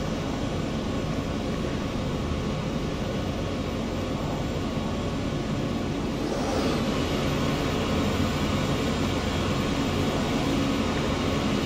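A steady, loud broadband roar of Airbus A320 turbines still turning after shutdown in a flight simulator game, an unbroken wash of engine and air noise with no talk.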